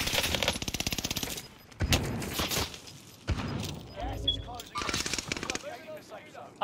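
Automatic gunfire in Warzone, rapid bursts of shots, close and loud, interspersed with Spanish-speaking voices talking over the action.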